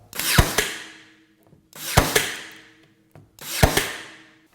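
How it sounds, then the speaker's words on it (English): A P320 AirStrike cordless brad nailer fires three times with even spacing, and each shot comes after a short whirring ramp-up. The sharp, close drives are heard alone. "P320 airstrike nailer also has a bit of ramp up time when you squeeze the trigger"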